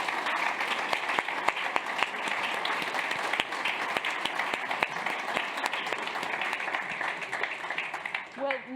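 Audience applause closing a panel evening on the global response to the war on Ukraine, sustained dense clapping from a large room with sharp individual claps standing out, easing near the end as voices begin.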